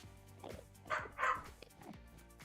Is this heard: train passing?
no